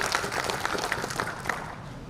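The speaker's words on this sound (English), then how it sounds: "One more round of applause for our colleagues from TMC." Audience applause at an anniversary event for colleagues from TMC, a steady wash of many hands clapping together at moderate loudness, sustained without a break for about two seconds.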